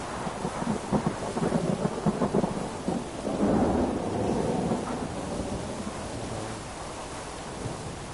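Steady heavy rain with rolling thunder, a broad wash of downpour throughout with a deep rumble building and swelling in the first half before the storm settles into constant rainfall.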